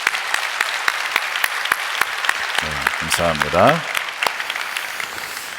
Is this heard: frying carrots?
no